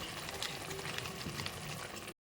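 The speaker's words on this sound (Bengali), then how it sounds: "ঝোলটা আমার ফুটে উঠেছে" Curry sauce bubbling at a boil in a pot on a home kitchen stove, a dense, close hissing bubble that continues evenly for about two seconds before cutting off.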